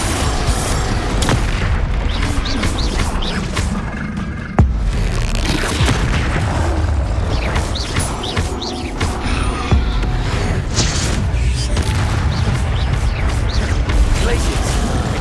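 Hogwarts Legacy combat: a dense, continuous barrage of spell-casting whooshes, crackles and booming explosions, loud and close throughout, with a sharp heavy blast partway through.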